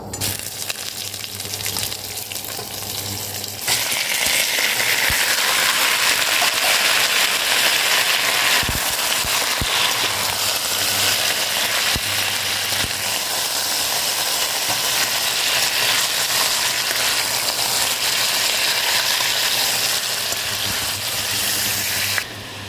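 Chicken frying in a pan: a loud, steady sizzle starts after a few quieter seconds and continues without a break, with an occasional light clink.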